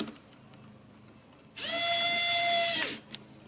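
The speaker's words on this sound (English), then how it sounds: "Then carefully screw it all together." A powered screwdriver drives a screw into a 3D printed PC case in one short, bright motorized whir lasting just over a second, set against a quiet room, followed by a small click.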